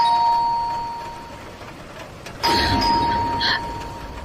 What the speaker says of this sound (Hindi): तभी अचानक से दरवाजे की घंटी ने उसका ध्यान खींचा।